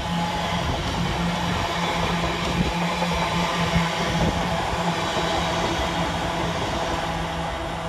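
A British Rail Class 350 electric multiple unit passes through Duddeston station on its way out of Birmingham. It makes a steady, loud rolling rumble with rail noise and a sustained hum that lasts the whole stretch, and no voices are heard.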